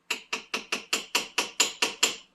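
Ten evenly spaced hammer taps on a metal punch seating an axle seal on a 1991 Toyota MR2, sharp and close, with a steady rhythm about four per second.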